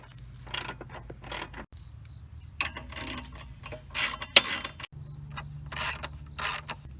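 Ratchet tightening the bolts on a fuel filter bracket during a fuel filter replacement, a few quick clicking bursts spread out in short runs, close and fairly quiet with no talking.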